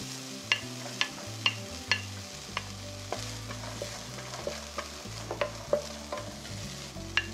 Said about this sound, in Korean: 다음으로 양파를 넣고 볶아주세요